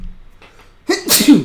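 A single loud, close sneeze bursts out after a stretch of near silence, with a brief spoken word just before it.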